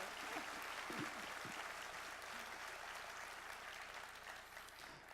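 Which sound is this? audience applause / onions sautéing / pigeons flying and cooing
audience applause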